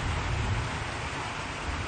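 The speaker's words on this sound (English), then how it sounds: "standing under this roof up here with the rain coming down" Heavy, steady tropical downpour hammering a roof overhead at Port Hedland, Australia, a dense unbroken hiss with a deep rumbling undertone.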